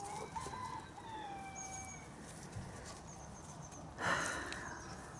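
Hens on an allotment cluck and chatter steadily at close range in the open air, with a few wing flaps, one louder burst of calls near the end, and no talking.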